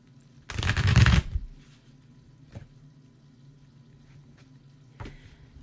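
A brief riffle of tarot cards being shuffled, a dense papery burst lasting under a second, followed by a few faint taps and clicks over a quiet low hum.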